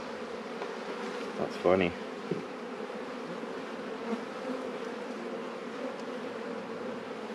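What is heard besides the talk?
honeybees buzzing at open hive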